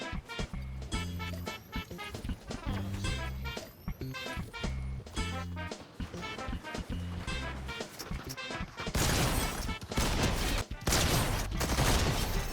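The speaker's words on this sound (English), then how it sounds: "It's shotgun, perfect." Rapid shotgun blasts and other gunfire ring out in a Fortnite match, a dense run of sharp close shots that grows heavier and louder toward the end.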